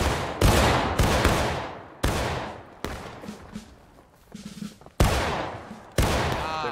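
Musket volleys crack out in the War of Rights video game, about six loud, separate blasts spaced a second or so apart, each echoing away, with scattered distant shots between them.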